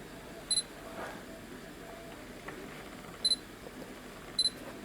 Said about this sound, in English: the noise I reported earlier of the Sigma MC-11, the focusing noise, it is still there.